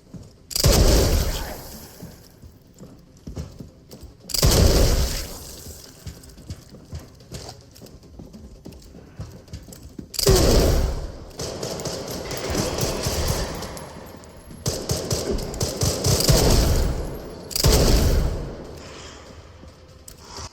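Heavy gunfire from the Requiem weapon in Resident Evil Requiem, loud booming shots in separate bursts, roughly five blasts spread apart with a rumbling game ambience between them.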